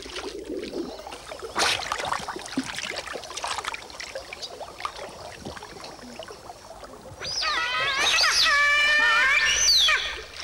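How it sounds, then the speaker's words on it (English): A giant otter lets out a loud, eerie wail from about eight seconds in, a rising and wavering harmonic cry that lasts to the end over the murmur of a river and forest. "It's the cry of a giant otter."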